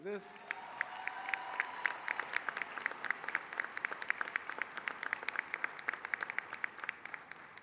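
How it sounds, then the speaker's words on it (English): An audience at a college commencement applauds, a sustained wash of clapping with sharp individual claps popping out, steady throughout. "Let's give them another round of applause"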